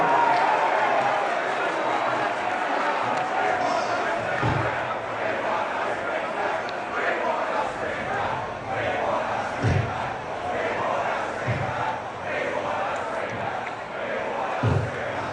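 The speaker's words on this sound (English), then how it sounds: "let's keep cheering the Socceroos, folks" Australian soccer fans gathered outdoors in Sydney's Tumbalong Park cheer for the Socceroos during Australia v Egypt, a continuous crowd roar with scattered shouts and occasional low thumps.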